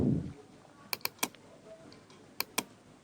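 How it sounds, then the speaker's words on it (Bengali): Close, crisp computer keyboard typing in a quiet room: a quick cluster of three keystrokes, a short pause, then two more sharp clicks, with faint room noise between. "তো এখানে আমি রিমুভ বিজি লিখে আমি এন্টার করে দিচ্ছি"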